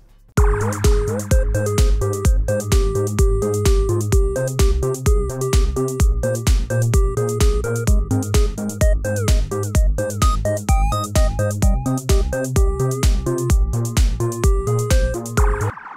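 Loud electronic dance music drop with a steady four-on-the-floor kick, the synths sidechained to the kick, pumping and ducking rhythmically with each beat.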